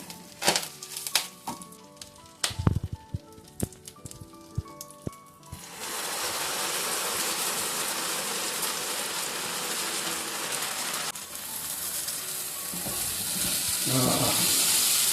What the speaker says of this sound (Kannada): ಸ್ವಲ್ಪ ಫ್ರೈ ಆದಮೇಲೆ ಮಾಡಿರುವಂಥ ಚಟ್ನಿನ ಇದಕ್ಕೆ ಹಾಕ್ಕೊಂಡು ಸ್ವಲ್ಪ ಬಿಸಿ ಮಾಡ್ಕೊತೀನಿ